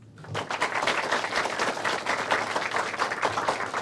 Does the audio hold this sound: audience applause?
yes